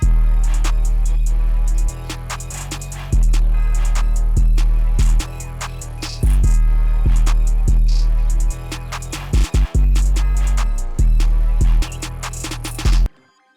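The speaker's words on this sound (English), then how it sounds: "all the drums together with the melody sounds like this" A loud hip-hop beat with punchy kicks, crisp hi-hats and a melodic line over deep bass, ending with a brief drop and cutoff.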